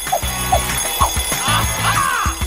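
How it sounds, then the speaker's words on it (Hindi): A bell rings to signal a break, sounding as a series of short, clear ringing tones repeated in quick succession at moderate volume, with faint voices around it. "अरे घंटी बज गई, छुट्टी।"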